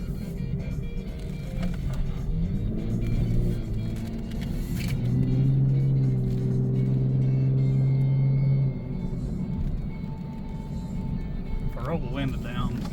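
Lexus IS350 F-Sport with a Borla Type-S axle-back muffler, driven in Sport Plus, gives a steady low engine drone heard from inside the cabin that swells and holds a tone mid-way, with a voice talking over it at times.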